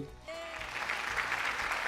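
Studio audience on a Malayalam TV game show breaking into applause after a contestant wins a round, a sustained wash of clapping that swells in after a brief voice and holds steady.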